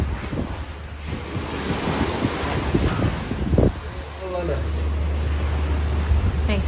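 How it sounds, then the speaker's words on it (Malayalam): Sea waves at Kovalam beach wash in a continuous rushing surf close by, mixed with heavy wind buffeting the microphone and a low rumble, with faint voices in the background. "തൊട്ടടുത്ത് തന്നെയാണ് കടൽ"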